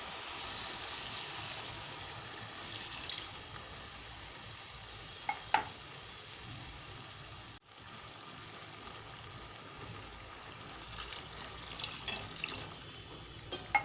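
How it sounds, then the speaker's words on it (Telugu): Two glasses of water go into a pan of simmering okra and tomato curry, making a steady soft hissing splash with faint sizzling and a couple of light clinks, quiet and close. "ఇప్పుడు మనం ఈ గ్లాస్తో 2 గ్లాసులు వాటర్ పోసుకుంటున్నామండి."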